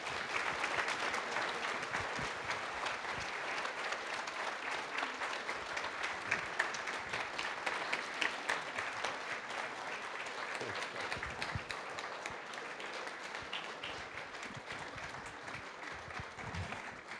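Sustained audience applause welcomes a speaker on stage at an event on Sinatra's centennial, a dense, steady roar of many hands clapping that holds for the whole stretch without any voices.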